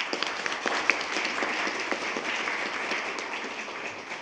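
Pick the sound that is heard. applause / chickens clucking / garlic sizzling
applause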